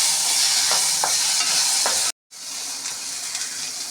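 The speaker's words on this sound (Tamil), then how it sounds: "ஸ்டீம் பண்ண பீன்ஸ் ஆட் பண்ணணும், மிக்ஸ் பண்ணிக்கலாம்." Steamed beans are stirred into a hot pan with onions, cumin and urad dal tempering, producing a bright continuous hiss and sizzle with soft stirring scrapes, cut by a brief silent gap.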